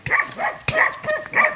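A dog barks repeatedly in a forest, three or four close, loud barks in quick succession with no talking.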